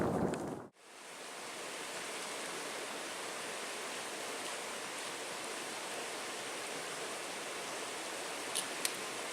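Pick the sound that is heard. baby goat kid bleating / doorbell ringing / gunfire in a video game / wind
wind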